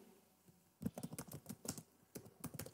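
Keystrokes on a computer keyboard while typing into a blank Google Docs document, a quick irregular run of close clicks that begins after a short quiet pause, with no voice over it.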